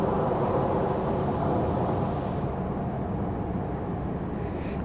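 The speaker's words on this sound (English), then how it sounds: "Plane makes a lot of noise when it lands, doesn't it?" A jet airplane landing at Dallas Love Field at night roars as a loud, steady broadband rumble close by, holding constant before easing slightly toward the end.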